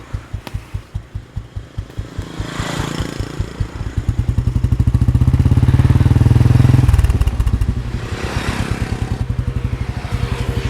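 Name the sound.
motorcycle riding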